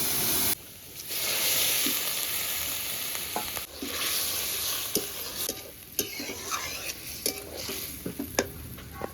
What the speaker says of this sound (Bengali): এবারে ওই তেলের ভেতর তরকারিটা ঢেলে দেবো।